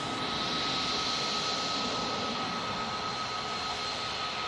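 A TUI jet airliner passes at Manchester Airport, a steady, moderately faint jet engine hiss and whine with a sustained tonal hum throughout, no voices.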